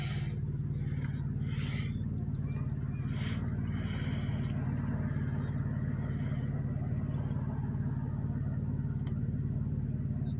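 Cars pass in both directions along Sales Avenue near Coursin Street in McKeesport, Pennsylvania, giving a steady low traffic rumble with a few brief swells, heard from the roadside with no talking.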